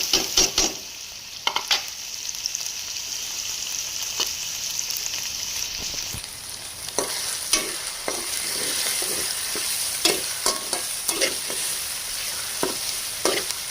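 Chicken and chopped onion sizzle and fry in a pan for white sauce macaroni, a steady crackling hiss broken by frequent clinks and scrapes of stirring, close and clear with no talking.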